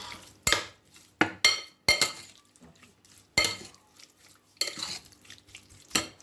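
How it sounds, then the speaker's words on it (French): Chicken pieces being mixed with salt and herbes de Provence in a bowl, a close series of sharp utensil knocks and scrapes arriving every second or so with quiet stirring rustle between them, no talk. "On va ajouter du sel et nos herbes de Provence. Et on va mélanger le tout."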